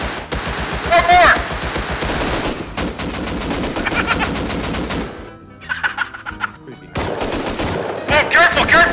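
Video game gunfire rings out in rapid bursts of loud shots, with rattling automatic volleys, brief pauses and a short quieter stretch, all close and dominant with no talk over it.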